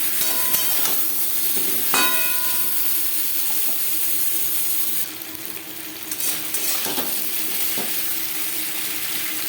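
Potatoes and pointed gourd fry in a small amount of oil, giving a loud, steady sizzle with occasional scraping clicks of stirring, close by, easing slightly partway through.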